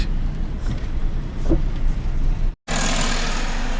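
A car driving through Kolkata streets, a steady interior road rumble and engine hum, briefly cutting out near the end before resuming at a brighter level.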